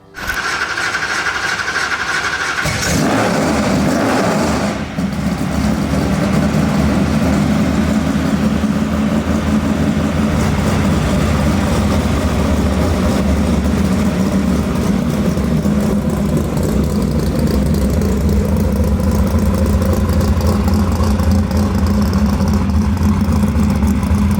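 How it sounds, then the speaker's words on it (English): A 605ci HEMI big block V8 in a Plymouth Roadrunner, built for roughly 1,000 horsepower on all motor, rumbles with a deep, steady idle throughout, loud and close, after a brief sharper burst at the start. "a loud rumbling V8."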